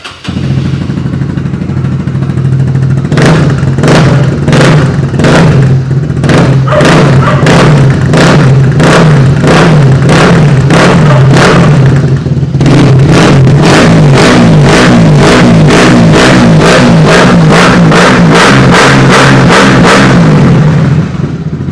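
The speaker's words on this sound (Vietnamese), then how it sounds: "để cho anh em nghe tiếng bô" A Honda CB150R motorcycle with a factory exhaust pipe is revved hard while standing, giving loud, close engine blips in quick repeated bursts over a constant idle rumble, with the blips coming faster in the second half; no one speaks.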